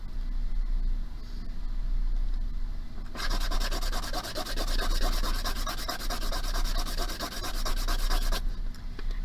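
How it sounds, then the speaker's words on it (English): Rapid back-and-forth rubbing of sandpaper on the wooden edges of an A-frame, a steady rhythmic scratching that starts abruptly, runs several seconds, then stops. "I'm going to sand just the edges of my A-frame."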